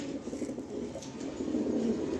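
Red-eyed racing pigeons, a pair offered for sale, give a soft low continuous cooing, faint and steady, with no talk over it.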